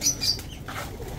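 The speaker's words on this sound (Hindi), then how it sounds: "कबूतर मेरे ऊपर आते साथ ही मेरे सारे कबूतर एक्टिव हो जाते हैं ऐसे" Pigeons on a rooftop loft flap their wings in a short burst, close by, with soft fluttering and a few faint chirps over low background hum.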